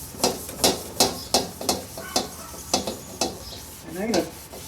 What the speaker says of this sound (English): I'm going to take a clean towel and I'm going to go and I'm going to wipe